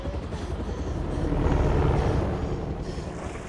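Helicopter in the Beyond: Two Souls video game, a steady whooshing, rumbling rotor drone that swells louder toward the middle and then eases off, with wind-like noise and no talking.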